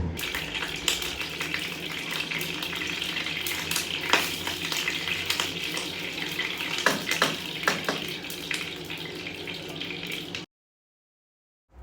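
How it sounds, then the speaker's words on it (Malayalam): Chicken fries in hot oil in a pan, a steady close crackling sizzle with a few louder stirring clatters, running continuously before cutting to silence near the end. "ചിക്കൻ വറുക്കുന്നതിലേക്ക് നമ്മൾ പച്ചമുളകും കറിവേപ്പിലും ഇടുന്നുണ്ട്"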